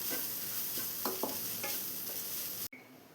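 Drumstick leaves and egg fried together in a pan give off a soft, steady sizzle with a few spoon scrapes as they are mixed, fairly close and quiet, no voices, ending with an abrupt cut.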